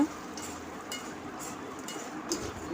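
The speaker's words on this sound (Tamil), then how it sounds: "மிளகாத்தூள் சேர்த்து லைட்டாக கிளறி விடுங்க அடி பிடிக்காத அளவுக்கு கிளறி விடுங்க" Raw banana pieces fry in oil with chili powder while being stirred, giving a steady soft sizzle with faint scraping strokes throughout and no voices.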